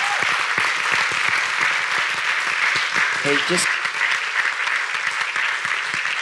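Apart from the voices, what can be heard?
audience applauding to welcome a guest speaker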